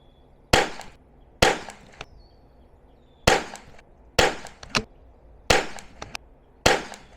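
B22 rimfire rounds fire one at a time during ammo testing outdoors, seven sharp, loud cracks spaced irregularly about a second apart, each followed by a short decay.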